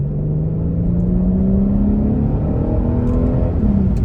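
A Kia Stinger with a 365-horsepower engine accelerating hard, heard as a loud, continuous engine drone whose pitch climbs steadily, with no talking.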